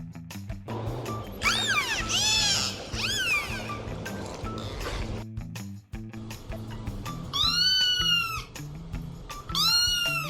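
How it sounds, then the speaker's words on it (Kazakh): A domestic cat meows several times in drawn-out, rising and falling calls, with a short pause in between, over a low, steady backing tone. "Мысық."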